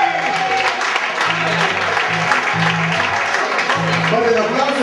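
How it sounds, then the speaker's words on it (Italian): Applause from an audience at a Cuban salsa dance competition as placed couples are announced, sustained clapping filling the room while an announcer talks over it. "qui l'applauso deve anche essere un po' più forte"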